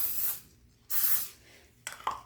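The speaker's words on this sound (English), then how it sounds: "give your mug a little bit of a spray with oil" Cooking oil sprayed into a mug in a kitchen: three short hissing spray bursts, close and quiet, the last one choppier and broken up.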